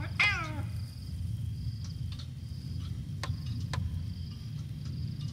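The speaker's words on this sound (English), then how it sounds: "I heard a cat." A single short, descending cat meow sounds in the horror game Pamali: Kuntilanak, brief and fairly close, over a steady low ambient hum with faint ticks afterward.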